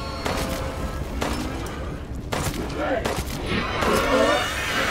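Handgun shots ring out in Resident Evil: Shadows of Rose, several loud cracks spaced across a few seconds amid game ambience and a player talking over the action.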